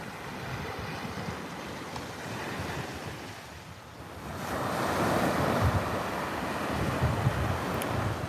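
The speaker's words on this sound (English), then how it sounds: "Can you hear the waves?" Ocean surf rolls in at sunrise, a continuous broad wash of breaking waves with wind rushing across the microphone, swelling louder in the second half as a bigger set arrives; no voices.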